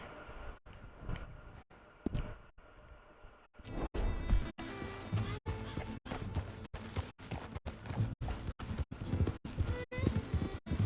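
Horse hooves clip-clopping while riding in the video game Red Dead Redemption II, a steady rhythmic gait that starts quiet and sparse, then grows louder and faster with music and ambient sound beneath.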